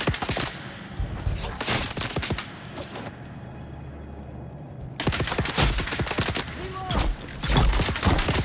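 Hostile gunfire in the Dune Awakening game comes as dense bursts of rapid shots, pausing briefly midway before another volley of sharp cracks resumes, loud and close.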